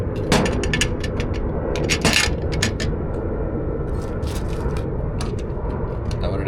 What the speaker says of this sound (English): It's probably going to be like a 1/2 inch or 9/16 wrench. Let's do socket.